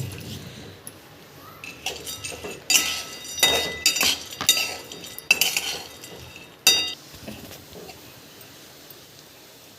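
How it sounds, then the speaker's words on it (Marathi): Cashew and almond pieces stirred in a pan of ghee, with scattered metallic spoon clinks and scrapes in uneven bursts over a quiet background. "आता आपण थोडंसं तूप टाकायचं आणि यामध्ये काजू आणि बदाम तुकडे केलेले भाजायचे."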